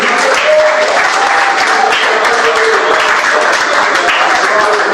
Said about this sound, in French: Est-ce qu'on peut acclamer pour ce grand Dieu?